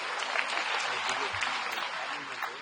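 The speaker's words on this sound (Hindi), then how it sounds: "जब ताली बजाइए" A rally crowd claps in a steady, dense burst of applause that fills the whole moment and sounds close and fairly loud.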